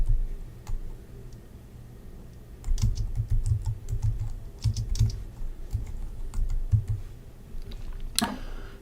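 Typing on a computer keyboard while writing R ggplot code: bursts of sharp clicky keystrokes in quick irregular runs, close and fairly loud, separated by short pauses, with one final harder key press.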